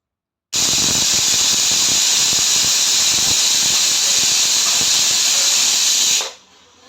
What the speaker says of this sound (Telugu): కుక్కర్ని స్టవ్ మీద పెట్టుకుని రెండు విజిల్లు వచ్చే వరకు ఉడికించేసుకుందాం